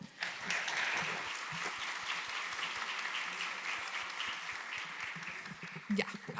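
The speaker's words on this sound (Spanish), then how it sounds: "Les damos un aplauso, por favor." Applause from the audience at a hospital seminar panel, a steady wash of many hands clapping that holds evenly for several seconds before tapering, with faint voices underneath.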